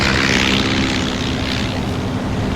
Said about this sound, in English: 21 Swordfish torpedo bombers lifted off an aircraft carrier